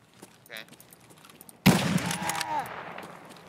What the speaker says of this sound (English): I shot this guy in the back